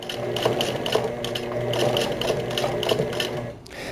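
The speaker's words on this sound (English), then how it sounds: "what I am going to do for these ones is run a zigzag stitch along either ends" A domestic sewing machine hums steadily at close range, its needle thumping in a fast, even rhythm while zigzag stitching along the ends of a pair of summer shorts, then stopping abruptly near the end.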